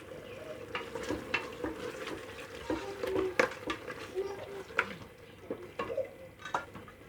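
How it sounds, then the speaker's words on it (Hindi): Gujarati-style mutton fries in a pan while being stirred, a low sizzle broken by frequent ladle scrapes and clicks against the metal at an uneven rhythm. "इसको भी भूनेंगे हम अच्छी तरह।"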